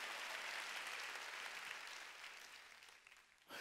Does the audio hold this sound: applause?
yes